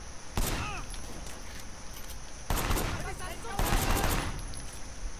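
Rapid gunfire in the Sleeping Dogs video game comes in dense bursts from blind shooting, loud and near over ongoing game noise, with a sharp volley at the start and longer bursts later. No one talks.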